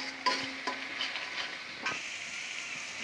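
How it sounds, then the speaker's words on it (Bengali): Spice paste of coriander powder, salt and chili powder fries in a pan with a soft, steady sizzle. A few scraping stirs sound close by, with no talking. "মশলাটা কষাই নেওয়া হয়ে গেছে লাল লাল ঝোল"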